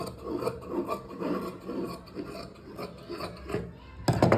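Scissors cutting cloth for a frock, a series of rhythmic rasping snips and fabric rubs up close, roughly one every half second, ending with a sharper burst of handling noise.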